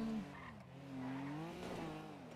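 Car driving in GTA 5 during a bank robbery police chase, a steady engine drone with a tire skid swelling in the middle, moderately loud and without talk.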